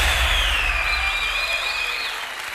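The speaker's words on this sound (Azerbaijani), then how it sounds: "Alqışlar gəlsin Abbas qrupunun şərəfinə." A festival audience at a nagara drum event applauds the Abbos group, a steady, full roar of clapping from a large crowd with high whistles rising and wavering above it, slowly easing off.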